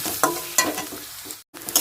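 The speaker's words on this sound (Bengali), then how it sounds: "এই যে দেখুন পেঁয়াজটা একটু ভাজা ভাজা করে নিয়েছি" Large chopped onions sizzle in a hot frying pan for pasta, with a steady crackle broken by sharp scrapes of stirring and one brief silent gap.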